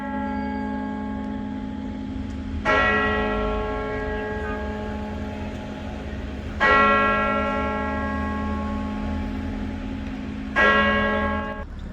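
Distant church bells of St Paul's Cathedral in London toll three times at even intervals, each strike ringing out and slowly fading over a steady street hum.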